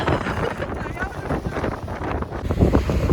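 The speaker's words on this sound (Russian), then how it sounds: "Ветер адский" Strong gusting wind by the sea at Ras Mohammed near Sharm el-Sheikh roars across the microphone in loud, uneven blasts, with surf noise underneath and a voice faintly audible.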